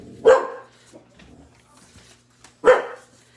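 A dog gives two loud, separate barks nearby, about two seconds apart, with quiet rustling in between.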